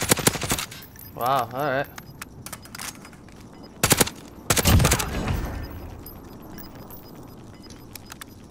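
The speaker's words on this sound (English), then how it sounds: "That was some nasty shooting." Gunfire from Call of Duty: Modern Warfare, a few sharp bursts of shots mixed with game effects and a short rising tone, heard between stretches of players talking.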